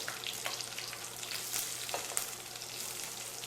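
Dried chillies, curry leaves, turmeric and asafoetida frying in hot oil for tomato rice, a steady soft sizzle with occasional crackles and light stirring, no voices.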